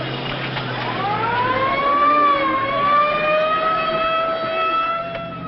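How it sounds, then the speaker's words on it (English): An ambulance siren from a 1940 gangster film, a single rising and falling wail sustained loudly for several seconds over a low engine rumble. "Ambulance, huh?"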